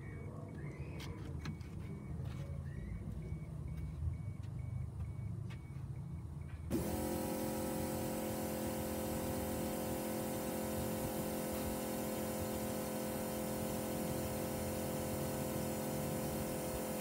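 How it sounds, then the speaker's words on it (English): Electric fuel pump priming and running in an MK3 Toyota Supra 7M-GTE fuel cell setup, a steady whine with harmonic tones starting abruptly partway through and holding evenly, loud and close, after quieter background rumble. "the fuel pump's running"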